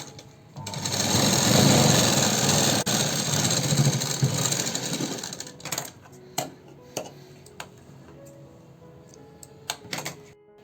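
A sewing machine runs a fast, loud stitching burst along a blouse fitting seam for several seconds, then stops, followed by scattered clicks and short fabric handling sounds.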